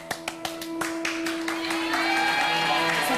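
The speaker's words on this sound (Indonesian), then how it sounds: "Siapa yang nyuruh tepuk tangan?" A studio audience on a TV variety show starts with a few separate sharp claps that quickly build into dense, continuous applause, with a sustained musical tone running underneath.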